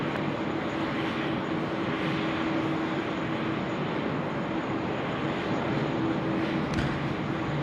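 An Etihad airliner rolls for takeoff on runway 16 right at Sydney Airport, a steady distant roar of jet engines holding level throughout, with no one talking.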